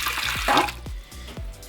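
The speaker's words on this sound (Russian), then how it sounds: "Добавляем сюда пол-миски воды." Water poured from a tap into a bowl: a short run of splashing and gurgling with several bubbly plops, close and moderately loud with no voices.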